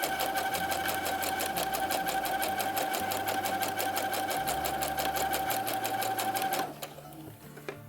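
A sewing machine runs continuously, stitching fabric for a Star Wars jumpsuit with a fast, even mechanical whir and rapid needle clatter, then stops abruptly near the end, leaving faint handling noise.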